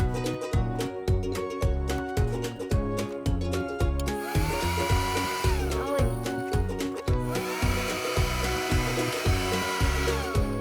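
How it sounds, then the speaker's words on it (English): A small handheld bug vacuum runs outdoors on a nature walk, its motor giving a steady whirring buzz with a regular pulsing pattern that carries on loudly for the whole stretch. "Oh, use your vacuum."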